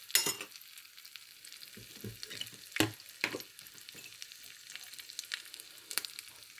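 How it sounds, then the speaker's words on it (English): Green chilies fry in a pan while a potato kofta curry is made, giving a soft, steady sizzle with a few louder clatters of stirring, heard close up with no talking. "Also, I'm adding just 2 green chilies. Just fry a little bit."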